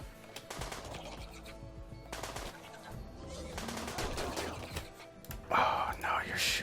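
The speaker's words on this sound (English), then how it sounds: "Oh, no, you're shooting him now." Rapid bursts of gunfire ring out in the video game RimWorld, scattered volleys and short automatic strings mixed with people talking over the game.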